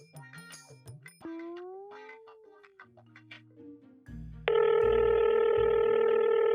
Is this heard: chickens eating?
no